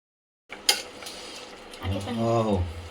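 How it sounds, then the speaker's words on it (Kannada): A metal spoon scrapes and clinks in a pan while cumin powder and garam masala are stirred in for paneer biryani, one sharp clank then softer scraping, with a voice speaking over the end. "ಸ್ವಲ್ಪ ಜೀರಿಗೆ ಪೌಡರ್, ಸ್ವಲ್ಪ ಗರಂ ಮಸಾಲ, ಇಷ್ಟೆಲ್ಲ ಹಾಕಿ ಚೆನ್ನಾಗಿ ಮಿಕ್ಸ್ ಮಾಡ್ಕೊಳ್ಬೇಕು"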